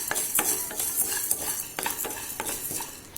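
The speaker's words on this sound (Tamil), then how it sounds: "இப்போ அதே கடாயில் நான் மல்லி போடுறேன்." Coriander seeds tossed and stirred in a hot kadai, giving a steady dry rustle and light sizzle broken by repeated scraping strokes of a spoon against the metal, close and continuous with no talking.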